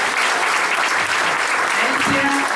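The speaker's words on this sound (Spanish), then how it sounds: "Démosle palmas al Señor" A church congregation claps hands together in dense, continuous applause that stays loud and close throughout, with voices mixed in.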